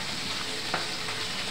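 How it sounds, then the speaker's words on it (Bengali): Fish sizzling in hot oil in a pan with a steady, dense frying hiss and one brief louder pop partway through, no voices present. "এই দেখো মাছটা ভাজা হয়ে এসছে আমার"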